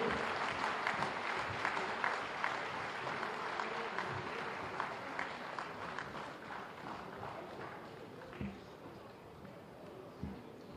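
A crowd applauds athletes at a Uttar Pradesh Day 2021 ceremony in Lucknow, a steady, moderately distant wash of clapping with a few sharper thuds near the end and some faint voices mixed in.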